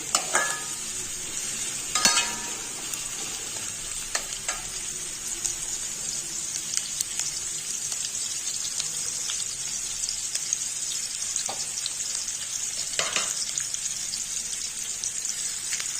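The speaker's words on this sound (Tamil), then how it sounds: "இதை நல்லா வதக்கி கொடுத்துக்கலாம்" Shredded cabbage sizzles in a pan for cabbage rice, a continuous bright frying hiss with occasional scraping stirs of a spoon against the pan, close and steady throughout.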